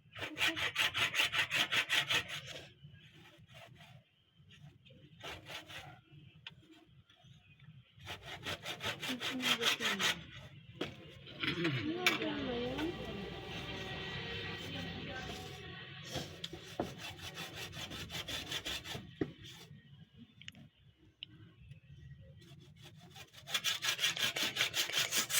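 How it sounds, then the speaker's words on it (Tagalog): A hand saw rasps back and forth through a young coconut in bursts of steady strokes, with pauses between sawing runs and some faint background clatter. "Kailangan lagari para pantay yung pagkahiwa."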